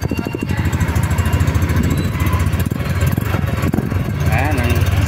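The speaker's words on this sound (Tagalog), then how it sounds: "Kaya pakinggan muna po natin yung kanyang tambucho." A Yamaha Aerox V3 scooter (2025 model) revs through its stock muffler, a loud, steady engine drone with repeated throttle blips, close to the mic, with voices talking over it.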